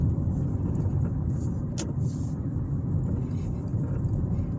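Steady road traffic rumbles through Pendleton, Indiana, a constant low hum of passing vehicles with a brief brighter swish as one car goes by nearby.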